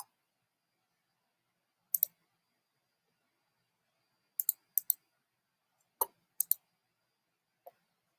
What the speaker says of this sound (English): if you hear a lot of typing